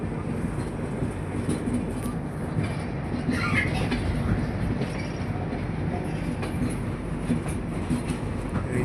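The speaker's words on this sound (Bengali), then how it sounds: "এই যে আমরা ডায়মন্ড ক্রসিং পার হয়ে যাচ্ছি।" A train's wheels clatter over a diamond crossing: a steady, moderately quiet rumble of rolling stock with scattered faint clicks and knocks from the rail joints.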